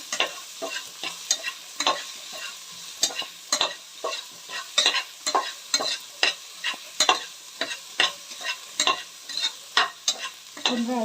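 Soaked grains or legumes frying in oil in a pan, a steady sizzle broken by repeated sharp scraping strokes of a spoon stirring them, close and fairly loud, with no talking.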